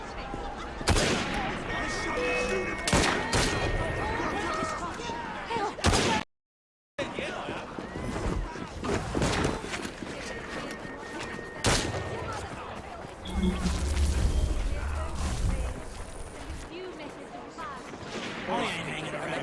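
Repeated gunshots in the action game Assassin's Creed Syndicate, loud sharp reports scattered across a chaotic fight with booms and clatter, a brief silence midway, and voices talking among the shots.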